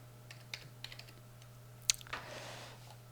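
Someone types on a computer keyboard during a Minecraft-style game, a few light separate key clicks followed by a sharper tap and a brief rustle, quiet over a steady electrical hum.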